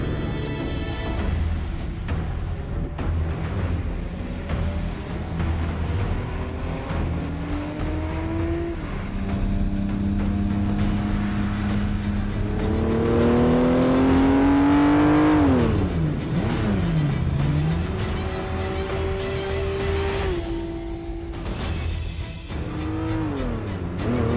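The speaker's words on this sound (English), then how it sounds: "I'm in an F50. And we're going for a spin." A Ferrari F50 engine revs hard and loud, pulling through rising gear sweeps with brief drops between shifts and a faint tire squeal, recorded from inside the car as it accelerates.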